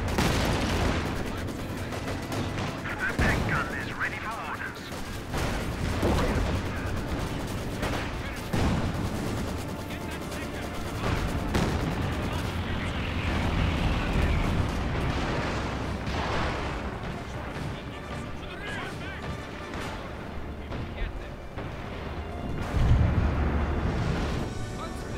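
A Company of Heroes 2 battle in winter at Rzhev, with anti-tank artillery firing over and over. Heavy booms and blasts follow one another for about 25 seconds, dense and loud, with bursts of gunfire and rumble between them and faint voices now and then.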